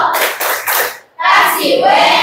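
Classroom group doing the 'tepuk wow' rhythmic clapping in an Indonesian school lesson, loud close bursts of many hands clapping in short patterned groups with a brief pause between.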